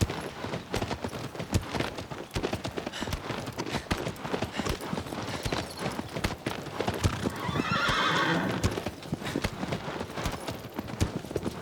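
A horse gallops hard with fast, loud hoofbeats in the Shadow of the Colossus remake, and a whinny rises midway over the drumming rhythm, close and with no talk over it.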